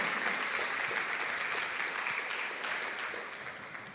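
Steady, dense applause from a large crowd, sustained throughout at an even level without any talking.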